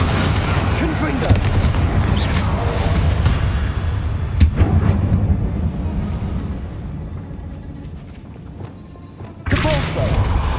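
Confringo fire spell blasts from the Hogwarts Legacy video game: dense, booming game audio with sharp thuds around four and a half seconds and again near nine and a half seconds, over a steady low rumble of battle sound.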